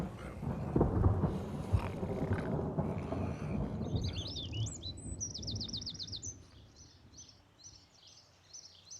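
A thunderstorm rumbles with a heavy, low roll of thunder that fades gradually. As the rumble dies away, bird chirps and calls come through clearly.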